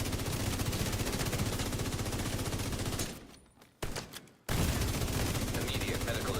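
Video game gunfire: dense, rapid bursts of shots fill most of the clip, stop briefly for about a second, then resume at full loudness.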